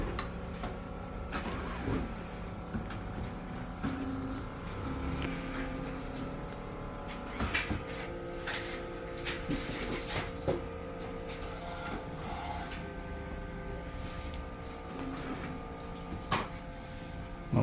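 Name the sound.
Riecat Alfa Gen3 DTF printer powering on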